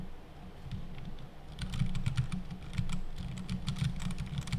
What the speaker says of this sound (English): here's my mechanical keyboard.